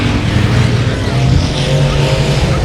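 Race cars circle the dirt oval at 281 Speedway, a dense, loud engine roar with droning low tones and shifting pitch as the pack runs by, continuous for the whole stretch.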